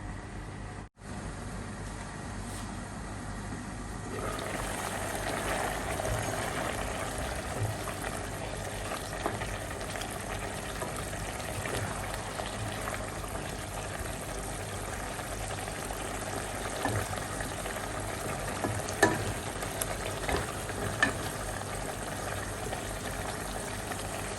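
Liver for igado simmers in a covered pan, a steady low bubbling and hiss that grows fuller after the first few seconds, with faint scattered clinks and no talk.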